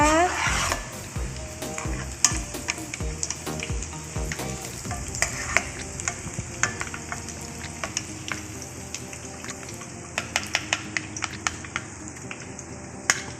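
Shallots fry in hot oil with a loud, bubbling crackle, then scraping and scooping clatters come as they are lifted from the pan, the sizzle gradually easing.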